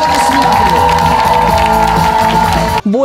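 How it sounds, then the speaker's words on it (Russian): An audience at the official opening of a youth forum applauds and cheers loudly, a dense roar of clapping and shouts that cuts off abruptly near the end. "Ваши аплодисменты!"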